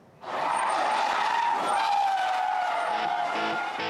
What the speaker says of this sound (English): what they call drifting is a fairly common form of entertainment in Saudi Arabia